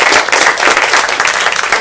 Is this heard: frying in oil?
no